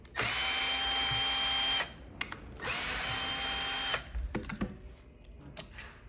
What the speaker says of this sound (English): I'm going to use a drill just to speed up the process